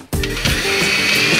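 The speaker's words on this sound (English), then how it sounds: "pop rivet a plate in the back" A pop rivet tool drives rivets to fix a bent plate onto the back of a small dihedral build, with a mechanical squeeze-and-snap and ratcheting grind up close, loud and steady and unaccompanied by voices.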